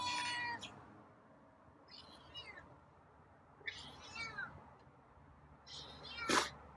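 A feral cat meows for dinner outdoors at dusk, with several clear, drawn-out meows in an uneven rhythm and quiet gaps between them. A sharp sound comes near the end.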